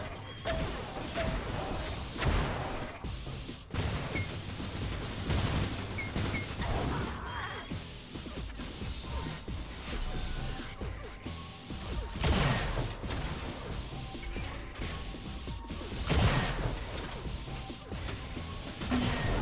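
Gunfire in an Unreal Tournament competitive match, with sniper rifle shots ringing out as sharp, loud cracks at irregular intervals over a busy, continuous din of game action.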